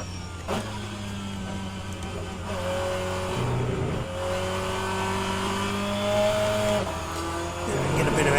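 An rFactor 2 race car engine revs under throttle, rising and falling in pitch with gear changes and sharp cuts between pulls, heard close and steady from start to finish.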